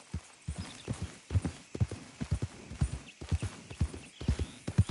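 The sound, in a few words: horse hooves clip-clopping in a video game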